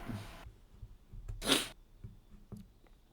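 A few short nasal sniffs from a person with hay fever, close by, one sharper and louder in the middle, separated by quiet pauses.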